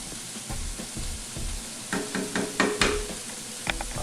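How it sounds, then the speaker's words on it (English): Onions cook gently in a pan for pasta, giving a soft, steady sizzle with bursts of spoon scraping and clattering against the pan. "I'm gonna cook it gently until the onions are translucent."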